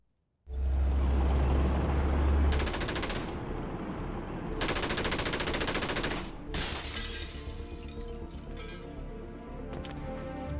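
Rifle fire aimed at a tank in Assassin's Creed Chronicles Russia: loud sustained bursts of rapid gunfire with several barrages, heavy low rumble underneath, continuing as denser game noise over about ten seconds.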